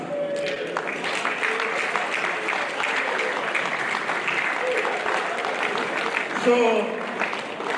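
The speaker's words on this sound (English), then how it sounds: "I think they deserve a voting clap." Steady applause from an annual general meeting audience in Umuahia, a sustained crowd clap running throughout, with a voice speaking briefly near the end.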